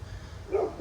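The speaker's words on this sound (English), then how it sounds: "I apologize for the dog barking." A single short dog bark, moderately close, over low background rumble.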